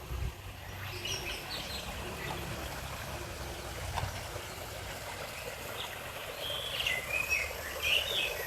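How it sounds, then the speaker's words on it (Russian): Pigeons and small birds call in an outdoor garden in Bali, their chirps and coos faint and scattered over a steady background of flowing water, with brighter, clustered calls near the end. "О, тут голуби."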